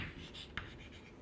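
Quiet scratching of writing on a board during a probability lecture, a few soft strokes with one sharper tap near the middle, heard alone and faint in a roomy space.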